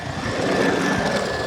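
An E-flite RC jet, either a 90mm Viper or an 80mm F-16 Falcon electric ducted-fan model, roars past steadily at close range. Its whine holds a constant tone with no talk over it.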